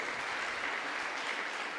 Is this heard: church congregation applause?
yes